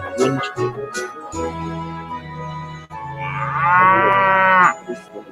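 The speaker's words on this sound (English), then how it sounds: "Stupid bloody cow." A cow mooing in a children's railway story: a long, loud, close bellow near the end, following lower mooing and brief voices at the start.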